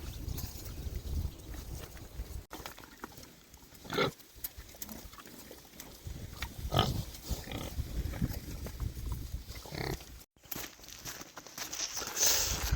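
Pigs grunt in low, rough snorts scattered over steady outdoor background noise, with occasional shuffling and footsteps nearby.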